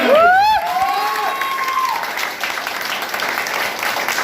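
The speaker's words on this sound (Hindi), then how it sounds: "एक पर जोरदार ताली होनी चाहिए" An audience at a motivational team session breaks into loud applause after a short whistling or cheering cry at the start, with clapping continuing steadily throughout.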